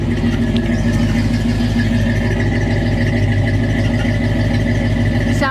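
A 1985 Chevy square-body pickup truck engine idles steadily with a deep, even rumble and a low throbbing pulse, close by and continuous throughout.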